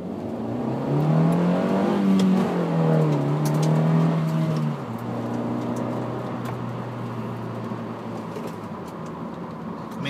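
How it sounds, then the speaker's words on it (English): A small Honda four-cylinder car with a manual gearbox revs up while driving, its engine tone rising and falling through the gears, then settling into a steadier drone, heard from inside the car. "this car makes a pretty nice noise too when you get the revs up"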